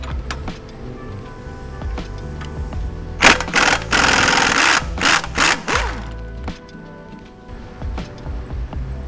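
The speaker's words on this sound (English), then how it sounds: "Next, remove the bottom strut bolt." Bottom front strut bolt coming off a 2016-2022 BMW 740i during an air-suspension conversion: a short loud burst of mechanical rattling and whirring in the middle, with lighter clicks and clanks before and after.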